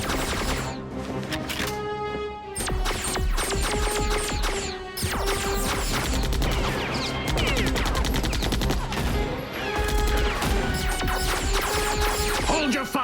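Heavy gunfire from a chaotic shootout, with dense bursts of rapid shots and crashing impacts that continue loud and close almost without pause.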